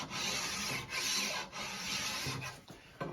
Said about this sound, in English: Go over it with a rasp, and then come back with a finer file